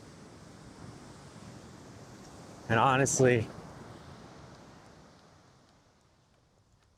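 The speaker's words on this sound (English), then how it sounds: "these waves are pretty big." Ocean waves breaking at high tide in a big wind swell, a steady, distant wash of surf and wind noise under a brief spoken phrase.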